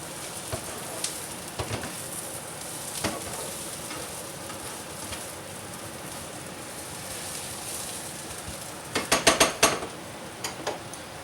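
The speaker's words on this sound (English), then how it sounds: "typically about 20 minutes is good for sauteing onions" Onions sauteing in a pan, a soft steady sizzle throughout with occasional taps and a short burst of rattling utensil clicks near the end, no voices.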